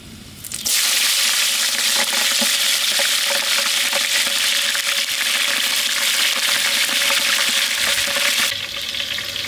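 Cinnamon, cloves, cardamom and green chilies hit hot oil in an outdoor village kitchen, bursting into a loud, continuous sizzle after a brief quiet start, then easing slightly near the end.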